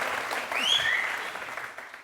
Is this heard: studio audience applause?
yes